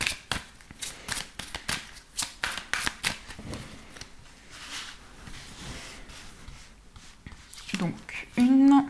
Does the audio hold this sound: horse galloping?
no